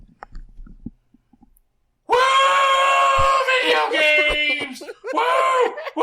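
A single voice imitates a cheering crowd at a Bethesda event, letting out a long, loud whooping yell followed by two more shorter cries. Quiet clicks and rustles come before the yelling starts.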